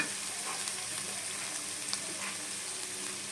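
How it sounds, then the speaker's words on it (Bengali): Taro sizzling in a hot pan after salt and turmeric go in, a steady close frying hiss with faint scraping stirs, no talk. "একটু লবণ দিয়ে দিলাম, একটু হলুদ দিয়ে দিলাম। দিয়ে ভালো করে কষে নেব।"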